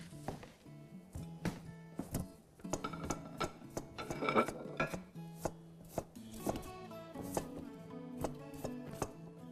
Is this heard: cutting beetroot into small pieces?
yes